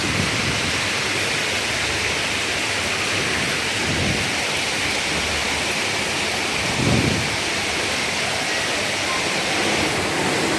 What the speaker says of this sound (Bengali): সকাল থেকে ডিপ ডিপ বৃষ্টি হচ্ছে